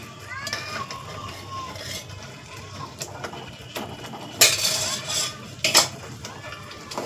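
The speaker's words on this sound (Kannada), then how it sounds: "ಈಗ ಕೈ ಬಿಡದೇನೆ ಇದನ್ನ ಕಲಿಸ್ತಾ ಇರಬೇಕು" Chutney simmering in oiled pan gets stirred without pause, a spoon scraping and clinking against the metal in a low continuous rasp, broken by two louder clattering knocks near the end.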